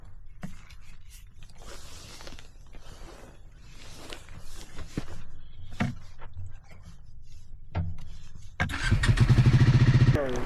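A Triumph Scrambler 400X on a high-altitude road toward Umling La gives scattered handling clatter and footstep-like knocks, then its engine starts near the end and settles into a close, steady, rumbling idle.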